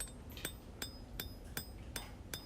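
Hand hammer blows ring out on heavy steel stock as a large skinner knife tip is drawn out on the anvil, six sharp metallic strikes at a steady, unhurried rhythm, close and clear with no talking.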